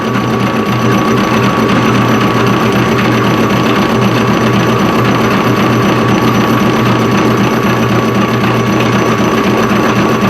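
A metal lathe turns down a part in a shop, giving a steady, loud mechanical whir with a constant hum that runs unbroken and close throughout, with no talking.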